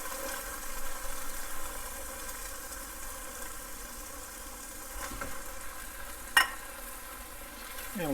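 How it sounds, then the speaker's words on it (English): Tomato sauce sizzling as it is poured onto garlic cooking in a pan over low heat, a steady close frying hiss with stirring and a brief sharp clink of a utensil near the end. "I'm going to add 1 can of tomato sauce."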